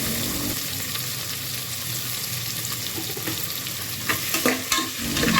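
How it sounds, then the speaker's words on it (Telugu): Chopped onions frying in a pan for Andhra-style bagara rice, a steady sizzle with stirring scrapes that grow louder and more clattery near the end. "కట్ చేసిన ఆనియన్స్ కూడా వేసుకొని 5 మినిట్స్ బాగా ఫ్రై చేయాలి."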